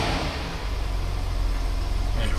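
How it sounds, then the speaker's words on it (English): A Vauxhall Viceroy car engine idles smoothly and steadily, a close, even low rumble with no talk over it. "It does, it's a nice smooth engine."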